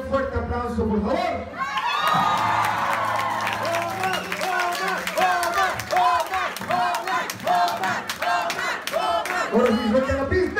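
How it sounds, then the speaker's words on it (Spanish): Crowd at a live anime convention show bursts into applause and cheering, loud and close, with shouts and whoops, sharp claps in a quickening rhythm and music sounding through part of it. "Recibamos un fuerte aplauso,"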